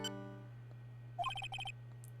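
A mobile phone ringtone in the Phoenix Wright game plays a short electronic melody of quick chirping notes in two bursts, heard over a steady low hum with brief game tones before it.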